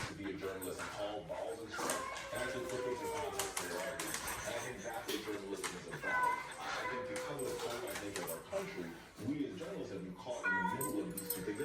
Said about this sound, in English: Hey, where you going, cat?